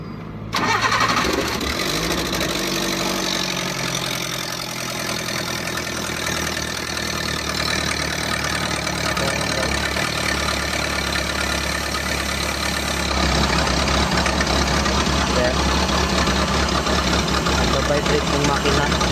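Engine cranks and catches near the start, then settles into a steady vibrating idle, a low rough rumble that grows slightly louder later, with someone talking over it.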